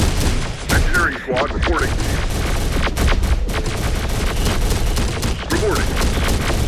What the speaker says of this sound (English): Enemy fire.